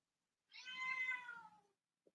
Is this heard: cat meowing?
yes